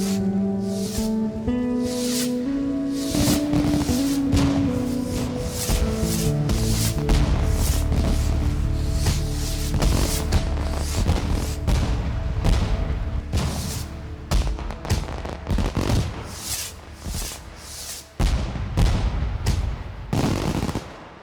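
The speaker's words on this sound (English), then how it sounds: "Cue the fireworks." Fireworks in the Valheim video game: a dense run of sharp crackling pops and bangs over a low rumble, rapid and irregular, growing more scattered toward the end, with no talk.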